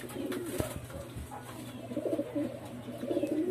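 A pigeon coos softly nearby in repeated low, rolling calls, with faint outdoor background noise.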